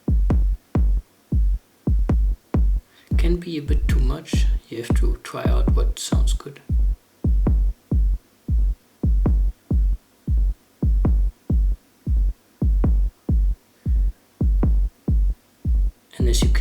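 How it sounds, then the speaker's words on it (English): An Elektron Digitakt plays a punchy techno kick drum in a broken, non-four-on-the-floor pattern, its cutoff filter being swept. The thumps are loud, close and regular, with someone talking briefly over them partway through. "I used not the typical 4 to the floor kick drum"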